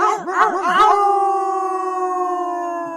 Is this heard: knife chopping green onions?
no